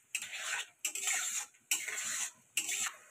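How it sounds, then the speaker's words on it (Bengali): Chilli chicken sauce gravy being stirred in a pan, with four bursts of bright scraping and clinking from a spoon against the metal pan, each lasting roughly half a second, separated by brief pauses. "4 মিনিট মতন নাড়াচাড়া করা হয়ে গেছে সস দিয়ে।"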